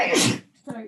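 A single sharp sneeze bursts out close by during an outdoor recreation area stewardship meeting, followed a moment later by a brief voice.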